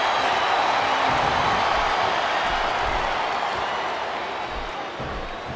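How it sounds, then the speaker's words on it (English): A capacity arena crowd in the WWE SmackDown vs Raw 2007 wrestling video game keeps up a steady, dense murmur and roar, with no clear bursts, for several seconds. "It sounds like this capacity crowd has something on their minds, Taz."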